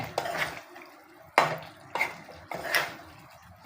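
A spoon stirs and scrapes chicken curry in a metal pot, several distinct clanks and scrapes in an uneven rhythm, close and clear with quiet gaps between strokes.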